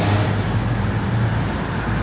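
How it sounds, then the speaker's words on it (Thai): A BTS Skytrain rolls past overhead at Samrong, Bangkok, making a loud continuous rail rumble with a steady high whine over it, heard alone with no talk. "นี่ รถไฟฟ้าอยู่ด้านบน"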